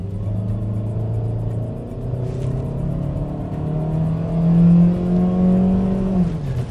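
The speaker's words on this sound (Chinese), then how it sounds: "就是它的发动机的噪音是非常非常大的，而且是那种非常杂乱特别难听 的那种声音" A Bestune X40 engine revs loudly and harshly under hard acceleration from inside the car, its coarse drone rising steadily in pitch through several seconds before dipping at a gear change.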